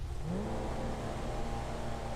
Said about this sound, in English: I like that exhaust note